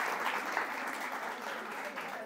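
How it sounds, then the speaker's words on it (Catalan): Studio audience applause on a Catalan TV quiz show, a steady wash of clapping held at an even level for a couple of seconds. "sí que et podem donar un aplaudiment, que és el que et fem ara"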